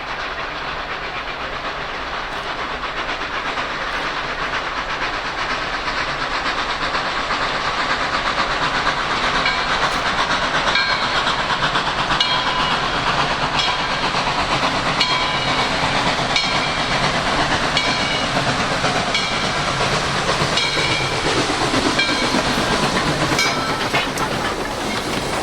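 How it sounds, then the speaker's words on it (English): Steam locomotive hauling a 9-car sold-out train through the hills and hollows of Georgia, a continuous loud rumble with hissing steam and rhythmic clickety-clack of wheels over rails, steady throughout with no voices. "the locomotive sounded good working through the hills and hollers of Georgia"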